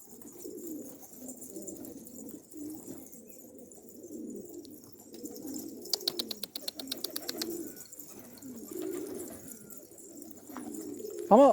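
Karagüllü pigeons coo in a coop, low rolling calls repeating close by throughout, with a brief rapid flutter of clicks midway and a sharper sound at the very end.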